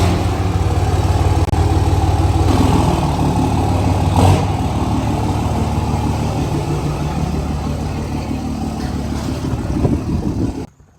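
A third-generation Cummins diesel pickup engine runs loud and close, a steady rumbling idle holding for about ten seconds before cutting off abruptly, with outdoor wind noise behind it.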